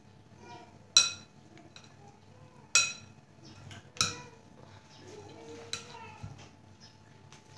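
A spoon stirs chaat ingredients with chopped onion in a bowl, giving several sharp metallic clinks at irregular intervals against a quiet kitchen background.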